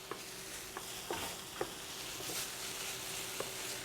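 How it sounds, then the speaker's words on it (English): Garlic sautés in a pan for a veggie burger mix, a soft steady sizzle with a few light utensil taps spaced through it. "We want to saute this a little bit to kind of, evaporate some of the moisture."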